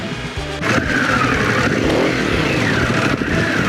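A Harley-Davidson Pan America motorcycle ridden off-road with its traction control cutting in: a loud, close engine drone whose pitch swells and dips continuously as the rider pushes over loose ground.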